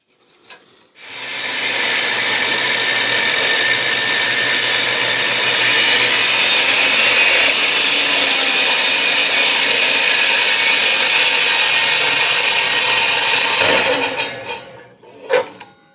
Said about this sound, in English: is sanding something like this really necessary?